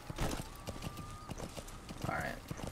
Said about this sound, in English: So if you press right, I can call for my horse.